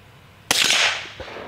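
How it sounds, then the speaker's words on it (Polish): A single sharp rifle shot cracks out loud and close, fired by a man handling a gun again after fifty years, followed by a decaying echo and a faint clatter. "No będę strzelał."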